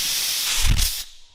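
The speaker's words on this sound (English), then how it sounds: "Lincoln just likes to use the air blower." An air blower gives a short, close hissing blast of air during truck bodywork, swelling briefly and then cutting off abruptly.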